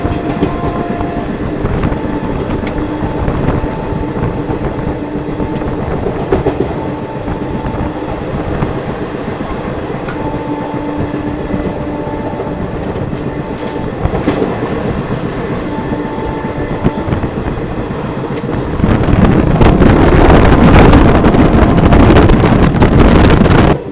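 A passenger train runs on the rails between Birla Nagar and Gwalior junctions, heard from inside as a steady, loud rumble and rhythmic clatter with wind noise, swelling into a louder roar near the end.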